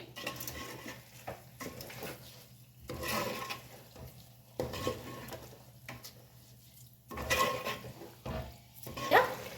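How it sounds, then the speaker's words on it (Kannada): Soaked rice is stirred in a metal pot for chicken wings pulao, with several separate bursts of scraping and clinking from a spoon against the pot and quiet pauses between them. "ರೈಸನ್ನು ನಾನು ಹಾಕ್ತಾಯಿದ್ದೀನಿ ಇವಾಗ ನೀಟಾಗಿ ನಾನು ಮಿಕ್ಸ್ ಮಾಡ್ತೀನಿ"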